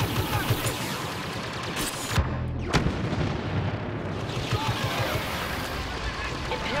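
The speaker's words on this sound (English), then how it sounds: "Look how many blasters are shooting at this." Blaster fire in a Star Wars Battlefront battle, dense and relentless volleys with booming explosions, one big blast cutting through the barrage partway, all under a dense wall of combat noise.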